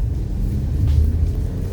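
2021 Geely Okavango Urban Plus accelerating, a low steady engine rumble heard from inside the cabin that swells slightly midway, with no speech.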